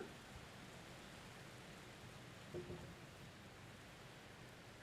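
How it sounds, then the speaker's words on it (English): Faint, steady hiss of rain falling, with a brief soft thump partway through; no voices. "do you hear the rain? Is it rain? It's raining here."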